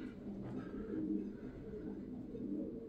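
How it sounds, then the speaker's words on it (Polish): A pigeon coos softly and repeatedly close by, low throaty murmurs rolling on continuously without speech. "mam takiego gołębia na imię Uszaty"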